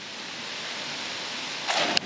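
A garden hose spray nozzle sprays water in a steady close hiss while stable upgrades are underway, ending with a brief spattering burst near the close.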